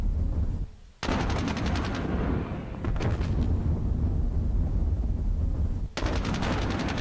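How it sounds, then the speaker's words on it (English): Gunfire aimed at barbed wire in the Squad Battles Soviet-Afghan War game: loud sustained bursts of rapid shots, a pause, another short burst, then a final burst, with no talking. "Probably wasted shots there. Yeah, that was just wasted shots."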